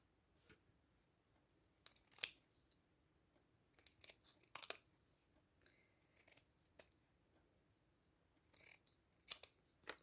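Scissors cut paper for a simple Christmas sleigh craft in several short bursts of crisp snips and slicing, close and fairly quiet, separated by pauses.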